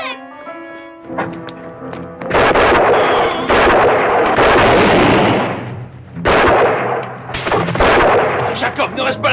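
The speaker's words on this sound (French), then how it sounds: "Et ça, c'est le son d'un Deringer?" Gunfire in a western film, heard as sharp, heavy shots and booming bursts mixed with loud crashing action sounds. Music plays softly at the start.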